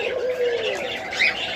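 Doves cooing at a large dove farm with adult birds and young chicks, a single drawn-out coo close by with a brief higher chirp near the end, no talking.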